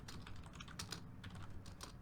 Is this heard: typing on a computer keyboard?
yes